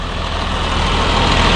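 A Caterpillar CAT C7 7.2 liter turbo diesel engine in a 2006 Bluebird Excel 45-passenger transit bus idles with a loud, steady low rumble and even mechanical chatter, close up and constant.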